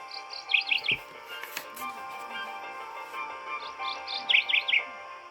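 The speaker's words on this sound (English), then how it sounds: "birds sing beautiful songs" Birds chirp in two short bursts of quick, bright tweets, separated by a quieter stretch with faint background noise.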